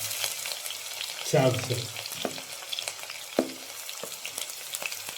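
Three garlic cloves and a little ginger fry in a pan with a steady crackling sizzle, broken by a few louder bursts as the pieces are stirred, while a voice speaks briefly.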